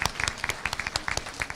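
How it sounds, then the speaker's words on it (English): Graduation ceremony staff are applauded by the audience with a brief, brisk burst of many hands clapping close and loud, individual claps standing out in an uneven rhythm. "And a round of applause."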